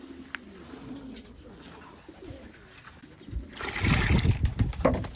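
Domestic pigeons in a poultry coop cooing softly and steadily, with a louder rustle and splashing of water in a basin building toward the end; no talking.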